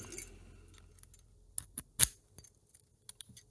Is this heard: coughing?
no